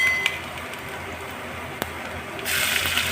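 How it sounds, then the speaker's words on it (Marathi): Water runs and splashes steadily into a cooking pan, then grows louder and brighter as more is poured in near the end. "आणि पाणी घालायचं"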